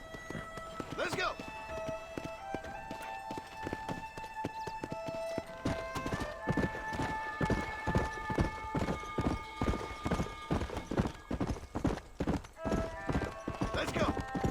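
Horse hooves clip-clopping in the Red Dead Redemption video game, starting at a walk and quickening to a fast rhythmic gallop, with a neigh and bright musical tones over the hoofbeats.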